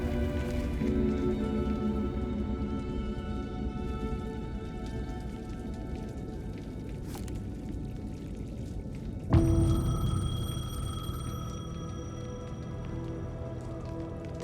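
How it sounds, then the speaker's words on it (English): A payphone rings in heavy rain in Alan Wake II, with steady rain hiss throughout and a sharp, bright electronic ring cutting in near the end over the downpour. "The payphone was ringing."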